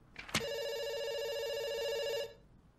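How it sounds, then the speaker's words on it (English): A telephone rings inside the video game Dr. Langeskov, The Tiger, and The Terribly Cursed Emerald: A Whirlwind Heist. After a brief click comes one steady, loud electronic ring of about two seconds, heard alone. "It's ringing."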